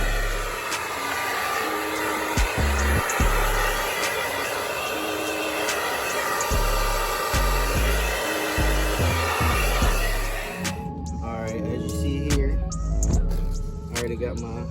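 Steady whirring hair dryer blowing hot air over a Dodge Challenger Scat Pack side marker to heat it before tinting, running continuously and loud for most of the stretch with intermittent low thumps, then cutting off near the end as a voice speaks.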